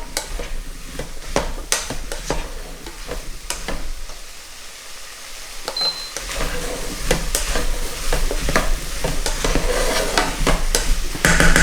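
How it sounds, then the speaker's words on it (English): Vegetables frying in a pot with smoked paprika for a vegan Tuscan bean soup, being stirred around: a steady close sizzle broken by repeated scraping spoon strokes, with no one talking. "Give that a bit of a stir around. Get everything nicely coated in some of the paprika."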